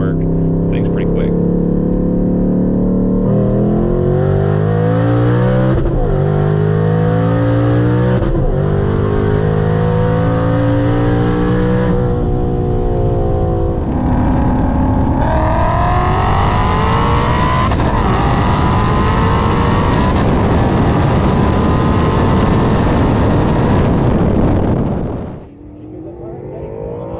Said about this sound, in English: This is a single big turbo Mustang. It is an automatic.